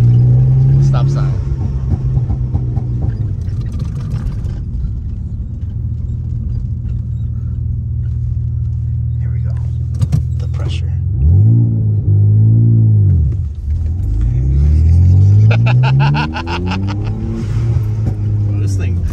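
Twin-turbo Mitsubishi 3000GT VR4 with a manual gearbox heard from inside, the engine idling low and then revving up and climbing in pitch through acceleration, with people talking over it.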